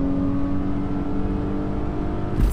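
BMW E36 (323i or 328i) straining under hard acceleration in a timed run, a steady droning engine note heard from inside the car, with a sudden sharp change near the end that suggests a gear shift.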